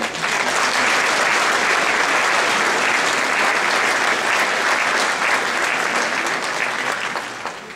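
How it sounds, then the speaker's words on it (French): A large audience at a mayor's New Year address applauds the town's technical staff, loud sustained clapping from a packed hall that runs steadily before tapering slightly at the end. "Moi, je voudrais qu'on les applaudisse très fort, ces gens."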